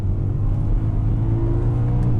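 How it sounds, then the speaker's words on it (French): A BMW M3 E92 fitted with an Akrapovic titanium exhaust pulls hard, its engine note droning loud and deep with a steadily rising, continuous rev as the car accelerates, heard close up from on board. "je repasse en mode MDM pour laisser exprimer ce moteur qui a une allonge"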